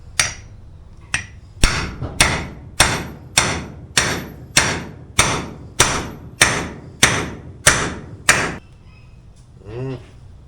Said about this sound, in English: And then I'm going to try to hit it with a hammer again.